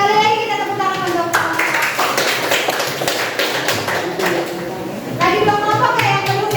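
A classroom of students claps for a presentation, a dense burst of many hands near and loud, with voices talking around and over it.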